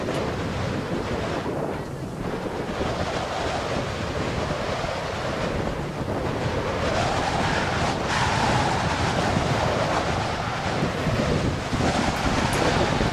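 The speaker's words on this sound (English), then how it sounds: "The wind is getting stronger by the minute." Strong, gusting wind roars continuously across the microphone in Torres del Paine national park in Patagonia, loud and unbroken throughout.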